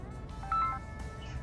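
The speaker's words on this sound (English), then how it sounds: "And that's my phone ringing now." A mobile phone rings indoors, a brief trill of electronic tones with a short bright burst, moderately loud over a low background hum.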